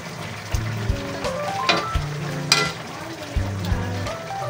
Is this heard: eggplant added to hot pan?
yes